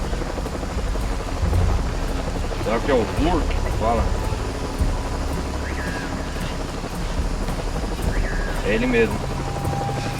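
A helicopter's steady chopping drone in Shadow of the Tomb Raider fills the background while people talk over it, with occasional short electronic tones and effects rising above.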